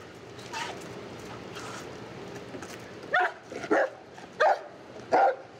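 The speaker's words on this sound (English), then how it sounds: "the dog alerted" A police drug-sniffing dog barks at a car while alerting during a roadside stop: four loud, sharp barks in a steady rhythm, close by, over a constant hum of background noise.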